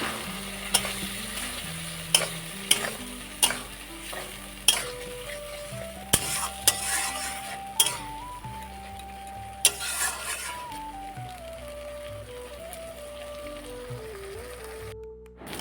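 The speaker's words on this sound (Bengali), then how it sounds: "এখন আমি ভালো করে নেড়ে চেড়ে নিচ্ছি" Pointed gourd (potol) pieces fry with spices in a pan while being stirred, giving sharp intermittent scraping clicks and a faint sizzle over soft background music.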